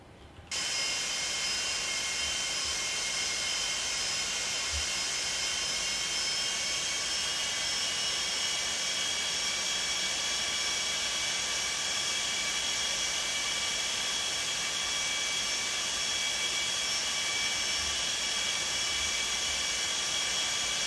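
Simulated Boeing 747-200 Classic jet engines in X-Plane 11 spool up to a steady, loud whine and roar that holds evenly after a sudden start, with no voices over it.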